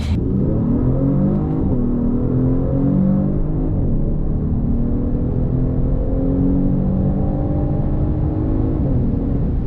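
A 3.3-liter twin-turbo V6 engine in a 2022 Genesis G70 hums smoothly and loudly throughout, its pitch gliding up and down with throttle in a steady, harmonic drone.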